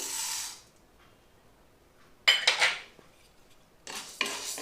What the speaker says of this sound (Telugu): శనగపప్పును వేసుకుందాం ఇప్పుడు మినపప్పును కూడా వేసేసుకుందాం